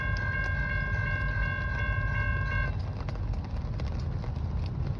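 A freight train with distributed power units rolls past in the rain, a dense rumble of wheels and cars with a steady multi-tone horn-like whine that cuts off partway through, loud and close.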